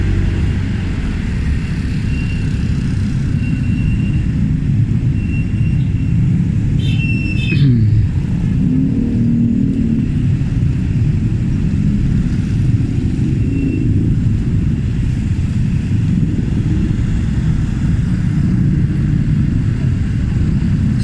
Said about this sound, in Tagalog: Kadalasan talaga dito ay natatraffic kasi gawa ng mga jeep na tumitigil,